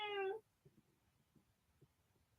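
A cat gives a single loud, close meow at the very start, harmonic and slightly drawn out, followed by quiet room background with faint soft knocks.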